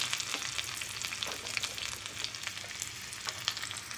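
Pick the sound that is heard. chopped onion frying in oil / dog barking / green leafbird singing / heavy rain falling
chopped onion frying in oil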